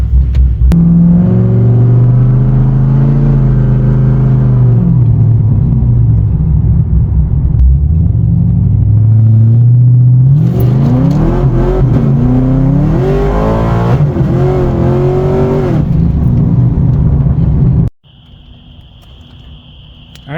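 A 2013 Chevrolet Caprice driving, its engine rumbling loud and close and rising and falling with acceleration, then cutting to a much quieter cabin with a faint steady tone near the end.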